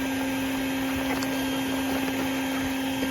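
A vacuum hose sucks yellowjackets out of a ground nest beside a rock, giving a steady, close motor drone with a constant hum and small crackles from debris pulled through. No speech.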